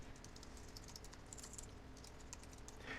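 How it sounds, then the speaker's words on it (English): Steady rapid typing on a computer keyboard, clicking keys at an even pace for the whole stretch, close and fairly quiet, with no talking. "I'm going to start with typing a sentence."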